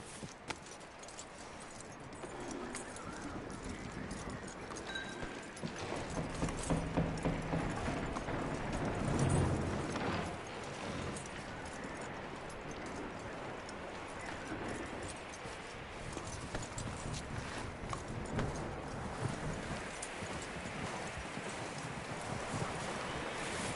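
Horse hooves clip-clopping in the Red Dead video game, steady and muffled under a constant wind-like wash of background noise, moderately distant and faint, with no talk.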